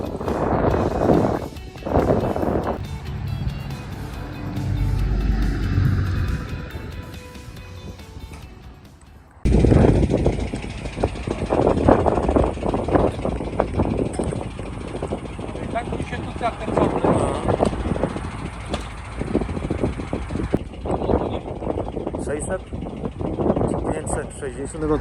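A cheap auction-bought BMW M5, started with a jump pack, runs with a steady broadband engine roar, strongest up close, while wind buffets the microphone and voices may be faintly present.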